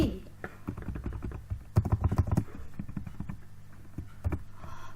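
Computer keyboard typing while writing Java code, bursts of close key clicks in uneven clusters with a denser flurry midway, heard alongside a voice speaking.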